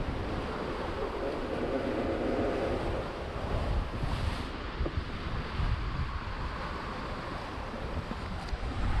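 Steady rushing wind and splashing waves aboard a sailboat running at seven to eight knots in about fourteen knots of wind, with continuous buffeting wind noise on the microphone and water wash close by.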